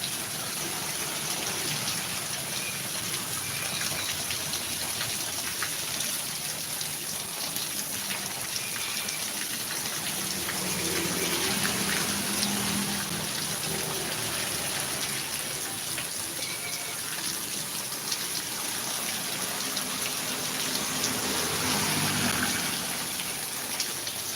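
Rain falling during a morning walk outdoors, a steady dense hiss of drops with a constant high whine over it, continuous and fairly loud for the whole stretch with slight swells in intensity.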